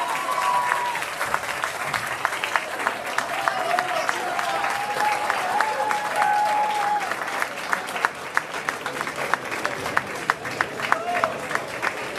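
An audience at a senior awards ceremony applauds steadily in a large room, sustained clapping filling the space while a voice and crowd murmur carry faintly beneath.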